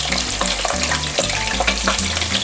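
Sausage balls sizzling loudly in a pan as they are rolled and moved around, close crackling with scraping stir noises throughout and no talking.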